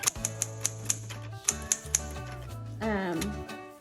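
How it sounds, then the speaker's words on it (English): Keys of a 1965 Smith Corona Classic 12 manual typewriter strike in a quick, uneven run of sharp clacks close up, with faint music underneath. "I'm just going to type a couple of lines so you can hear it typing"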